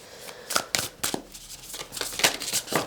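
A deck of tarot cards is shuffled by hand with quick papery riffles and flicks, and cards slip and drop during the shuffle. The sound is soft and close, in irregular bursts.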